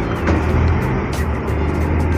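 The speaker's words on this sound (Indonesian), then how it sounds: "Dan langsung bus Sumber Selamat 7075 berangkat." The Sumber Selamat 7075 bus pulls away near Kertosono, its diesel engine rumbling low and steady, close by and fairly loud for about two seconds with no talking.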